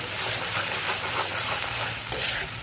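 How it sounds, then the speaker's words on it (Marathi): Masala sizzling steadily in hot oil as it is sautéed for a paneer bhaji, a continuous close bright fry with a faint stirring scrape and no talk. "बघा ह्या पद्धतीने आपल्याला पूर्ण आहे ना मसाला परतून घ्यायचा."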